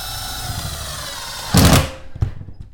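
Power drill fitted with a new Milwaukee bit briefly driving a drywall screw, a short loud whir followed by a quick thunk and a brief second burst.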